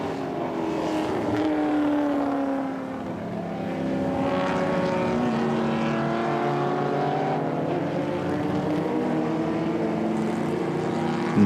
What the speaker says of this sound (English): Car number 150, the Ford GTP.